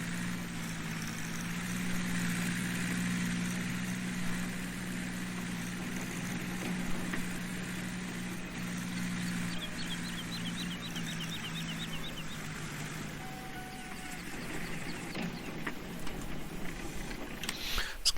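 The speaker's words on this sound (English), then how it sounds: "switch the John Deere's engine off, or it'll be out of fuel in the morning." A John Deere tractor idles in the Farming Simulator 19 game with a steady low, rumbling drone, then the engine cuts off near the end and faint ambient sounds remain.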